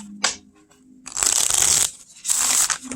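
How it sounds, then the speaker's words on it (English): Mystical Shaman Oracle Mini cards shuffled close by in two quick riffling bursts, crisp fluttering with light taps of the deck in between. "Perfect shuffle."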